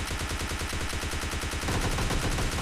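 Rapid, sustained automatic gunfire from the Free Fire video game rattles in dense, evenly spaced bursts. It stays loud and close throughout, with no talking.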